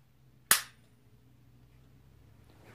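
A pistol trigger is pulled during dry-fire practice, giving a single sharp click at close range with a quick decay, followed by near silence and faint room noise.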